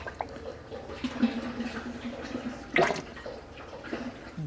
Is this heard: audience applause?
no